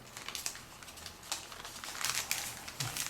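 Paper is creased and reverse-folded by hand while shaping an origami orchid, giving close, crisp crinkles and soft taps in irregular bursts, with no talking.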